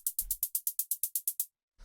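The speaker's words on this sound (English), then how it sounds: "What we have here is we have some white noise going into a bandpass filter." A stereo hi-hat synthesized in Ableton Operator from white noise through a bandpass filter plays about twelve quick, bright, even ticks in a steady rhythm, followed by a short pause and one more faint hit.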